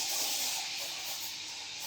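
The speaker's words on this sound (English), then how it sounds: "I do have to steam some milk, so let's steam a little bit of milk" Milk is steamed on a Francino commercial coffee machine, giving a steady, bright hiss close up that runs unbroken for the whole stretch with no talking over it.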